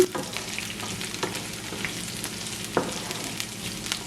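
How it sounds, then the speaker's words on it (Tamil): Dried red chillies frying in oil in a pan for a cabbage and egg stir fry, giving a steady low sizzle with occasional sharp clicks of a utensil stirring, close and without any talking. "காஞ்ச மிளகா போட்ட அப்புறம் ஒரு நிமிஷம் வதங்க விடுவோம்"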